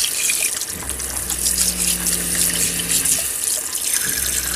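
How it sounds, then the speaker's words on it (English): Water running from a bathroom sink faucet in an RV, a steady close splashing stream with a brief low hum from the pump or heater partway through. "Let's try the bathroom sink."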